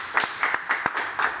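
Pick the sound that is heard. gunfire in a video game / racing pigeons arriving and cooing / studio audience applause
studio audience applause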